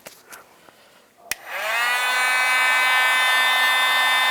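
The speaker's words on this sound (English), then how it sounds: "Just using a heat gun." A few light clicks, then a heat gun switches on with a sharp snap and spins up into a steady, loud whirring blow, used to shrink wrap over a crimped wire connection on a GMC Yukon tow mirror install.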